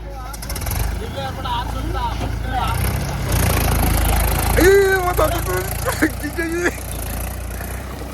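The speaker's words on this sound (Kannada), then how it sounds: "ಈಗ ಮಹೀಂದ್ರ ಟ್ರ್ಯಾಕ್ಟರ್ ಬರುತ್ತೆ" Mahindra tractor engine running during a tractor power check: a steady low diesel rumble close by throughout, with voices calling and shouting over it in the middle and later part.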